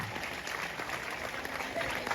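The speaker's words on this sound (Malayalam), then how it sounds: "നല്ലൊരു കൈയടിയാവാം" Audience applause at an awards ceremony, welcoming the Speaker onto the stage: a short, even burst of many hands clapping, moderately distant and fairly faint, with a voice faintly audible underneath.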